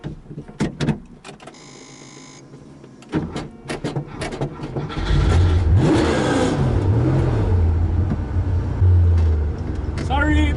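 A Porsche Carrera RS engine revs hard and roars steadily, with sharp crackles and pops from the exhaust, preceded by clicks and a door or window whir.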